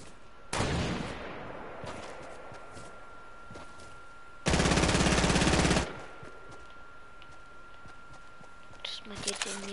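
Gunfire in the Fortnite video game during a late-match fight, with two loud bursts of rapid fire, one short and one lasting over a second, plus scattered fainter shots, while someone talks over it.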